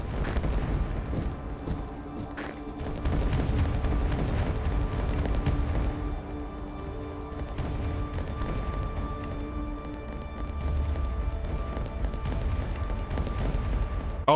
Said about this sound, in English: Oh no, the bombing!